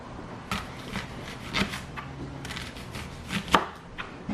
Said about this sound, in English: These are my onion. Yeah, I would just cut it up.